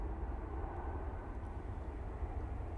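An EasyJet plane arriving from Hamburg at windy Manchester Airport, heard as a steady, broad low roar and rumble at a distance with no voices, holding level for about three seconds.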